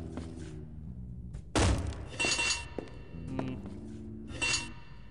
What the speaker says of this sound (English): Maybe we can break the glass?